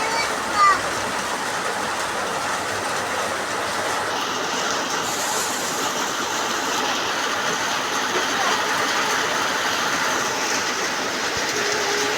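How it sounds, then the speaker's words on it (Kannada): Heavy rain falls outside in a continuous, even hiss at moderate distance, steady for the whole stretch, with faint voices over it. "ಹೊರಗಡೆ ಮಳೆ ಅಂದ್ರೆ ಮಳೆ ಬರ್ತಾ ಇದೆ"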